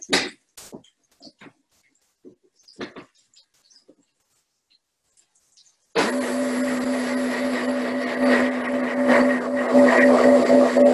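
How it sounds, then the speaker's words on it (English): A blender switches on after a few scattered taps and clinks, whirring loudly and steadily as it purees ingredients for a sauce, with a strong motor hum that grows slightly in intensity. "I'm just going to blend this whole thing"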